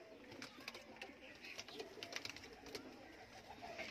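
Soft, repeated cooing from red Amritsari (Ambarsari) pigeons, a pair with a male, rises and falls at low volume over a steady background hiss, with no speech.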